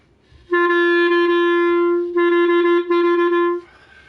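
A clarinet holds a steady long tone, pure and reedy, with a brief break partway before resuming, played up close in a quiet room.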